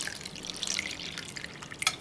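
Water poured into a pot of soaked chickpeas: a close, continuous trickling and splashing pour with bright dripping accents, steady for about two seconds with no voices.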